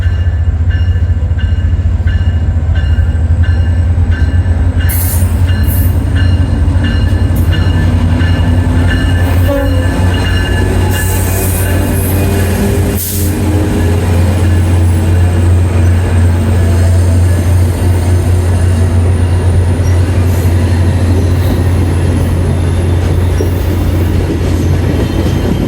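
A VIA Rail train hauling six LRC coaches passes Aldershot station in Burlington, Ontario, with a loud, steady low rumble and rolling wheel noise that holds throughout, without any voices.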